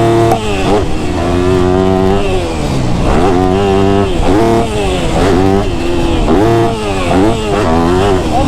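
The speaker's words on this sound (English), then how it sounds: "Gonna go do our warm-up laps on the 4-stroke on the 250F" Four-stroke 250F motocross bike on warm-up laps around a track, engine loud and close, revving up and down repeatedly through the gears in a rising and falling pattern.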